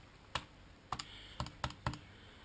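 Five separate keystrokes on a computer keyboard, spaced irregularly with crisp near clicks, tapped while entering numbers into a program during an electronics project with a slewing boom head.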